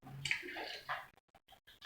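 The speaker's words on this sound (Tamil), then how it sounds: "ஃபஸ்ட்டு நம்ம தண்ணி ஊற்றிக்கணும்." Water is poured in the Minecraft video game, a brief splashing gush that fades into a few scattered drips and small splashes, close and fairly quiet.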